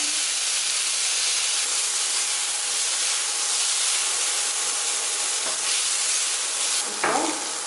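Capsicum sizzling in sauce in a hot pan: a loud, steady frying hiss filling the whole stretch, with a brief stirring scrape near the end and no talking.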